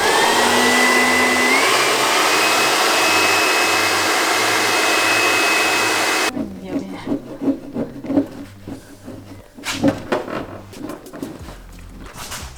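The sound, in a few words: hair dryer used to remove silicone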